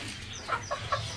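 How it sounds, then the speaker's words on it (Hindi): A rooster gives a few soft, quick clucks in a short burst among a flock of backyard poultry, faint over low ambient noise. "यहाँ पे ना एक मुर्गा है वो पीछे पड़ जाता है"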